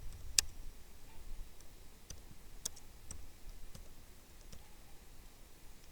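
Sparse, light clicks of typing on a computer keyboard, a few separate taps spread out over several seconds against a quiet room background.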